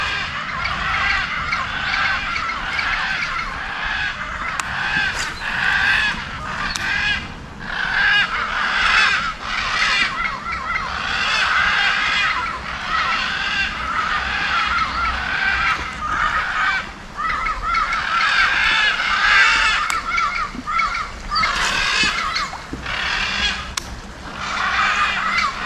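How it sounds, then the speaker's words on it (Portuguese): A dense chorus of wild birds including many macaws, harsh squawks and raucous calls overlapping continuously from several directions at close to middle distance. "Rapaz, quanto passarinho, hein? Ó, tanto de arara."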